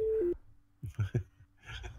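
A phone's busy or call-alert tone cuts into a podcast conversation, a steady held beep dropping in pitch after a moment, followed by short bursts of talk.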